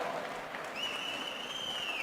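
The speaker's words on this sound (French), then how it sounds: "On l'applaudit, Vincent Jean, pour la médaille d'or." Steady applause from spectators at a masters short-track speed skating competition in Drummondville, greeting a gold medal finish; continuous and moderately loud, with a whistle-like tone rising partway through.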